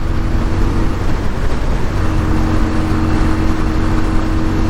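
A 1988 Virago 250 motorcycle with a newly installed carburetor runs at full throttle in fourth gear near 70 mph, giving a loud, constant, dense engine roar mixed with wind rush and no break throughout.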